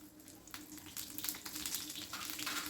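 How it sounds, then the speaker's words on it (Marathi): Green chillies dropped into hot oil with cumin for tempering, a soft crackling sizzle with irregular pops and spits, faint and close, no talk. "हिरवी मिरची घालूया"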